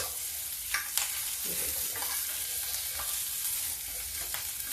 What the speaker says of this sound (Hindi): ये देखिए मेरी आलू फ्राई हो चुकी है।